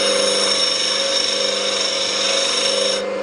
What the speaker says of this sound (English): you can see if you're grinding it flat, and you can see if you're getting a nice consistent grind on it